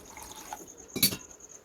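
Water poured into a pot of pepper rasam while cooking, a single brief splashing pour close by, standing out against a quiet kitchen background.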